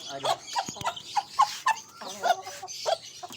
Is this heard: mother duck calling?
yes